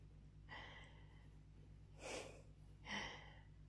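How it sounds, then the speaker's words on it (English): A woman's close, soft breaths: three distinct inhales and exhales, breathy and intimate, with quiet pauses between them and no talking. "Oh, and the way you're breathing."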